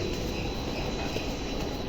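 A steady, loud rumble of a Delhi Metro train in motion fills the space, a constant low roar with no breaks.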